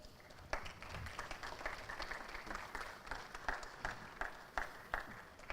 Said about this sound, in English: give a round of applause whenever anybody comes up